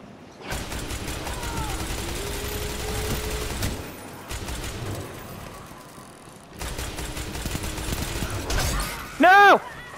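Gunfire from a Destiny 2 Crucible Control match, loud bursts of shots and mechanical weapon clatter running through most of the stretch with brief pauses, plus a sharp ringing ability or pickup sound near the end; players talk over it.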